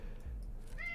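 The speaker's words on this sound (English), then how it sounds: "If you can hear my cat meowing" A pet cat meows once near the end, faint and brief over a low background hum.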